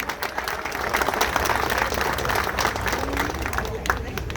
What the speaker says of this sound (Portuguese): Uma salva de palmas para sua esposa,